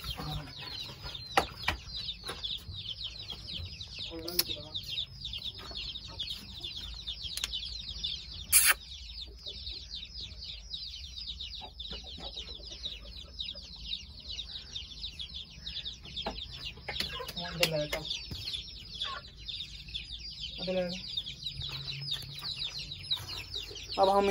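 Aseel chickens cluck and crow intermittently in a farm shed, close and fairly quiet, with a steady buzz of chirping and insect-like noise behind them and no talking.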